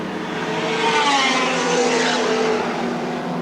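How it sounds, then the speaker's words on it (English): Touring cars, a Holden and a BMW, racing at Lakeside circuit, loud engines roaring and changing pitch as the cars pass close, with a brief tire squeal. "George Fury opens a small advantage on the BMW."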